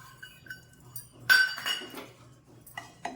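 Ajwain seeds are dry roasted in a pan, heard as quiet scattered clinks and scrapes of a utensil against the metal, with a louder rattling burst in the middle and a few light taps after.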